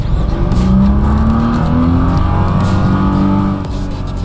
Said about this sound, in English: The engine seems to hit just the right tone.